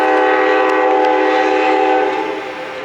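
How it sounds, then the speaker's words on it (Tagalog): A train passing through Rochester town near High Falls sounds a loud, sustained, multi-toned horn up close, which holds steady and then begins to fade, with no voices. "Oh, there's a train!"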